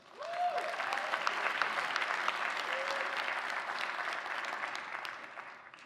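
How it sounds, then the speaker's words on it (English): Graduation convocation audience applauding, a dense sustained clatter of many hands from a large crowd that holds steady for several seconds and then tapers slightly at the end. "Give yourself another round of applause."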